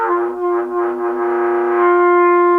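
Trumpet note played with too little air, an unsupported tone that wavers and pulses in strength before settling into a steadier sustained pitch, heard alone.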